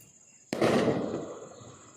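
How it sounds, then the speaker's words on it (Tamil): A Deepavali firecracker bursts after evening rain left the crackers damp, one sudden loud bang with a rough crackling tail that fades over a second, outdoors and alone. "நல்லா கன்னு கன்னுன்னு பாதி டபாசு வெடிச்சுது"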